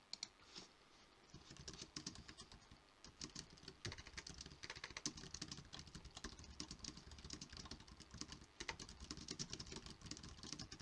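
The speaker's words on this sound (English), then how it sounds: "My wife says that she likes the sound of the G613 more than the RTEC I was using." Fast, continuous typing on a Logitech G613 keyboard, with rapid, closely packed key presses clattering evenly throughout, close up and alone.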